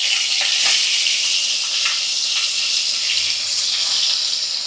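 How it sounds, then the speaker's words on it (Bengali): Fish coated in salt and turmeric sizzles and spits loudly in hot oil in a wok, a steady close frying hiss throughout with no voices. "কড়ার মধ্যে নুন হলুদ মাখানো মাছ দিয়ে দিলাম।"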